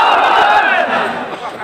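A large crowd at a religious gathering in a khanqah roars back a Takbir slogan in one loud, sustained, close-up collective shout that fades slightly at the end.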